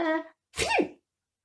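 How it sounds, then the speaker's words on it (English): A single person's sneeze, with a short breathy intake followed by a sharp, close burst, then silence, caused by hay fever. "he was fed up of having hay fever sneezes"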